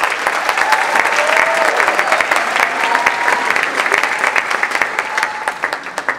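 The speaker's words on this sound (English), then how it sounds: "let's give a quick round of applause for Rod Groff." Sustained audience applause at a community gala, a full, even roar of many people clapping close and loud for several seconds, with a few faint voices mixed in.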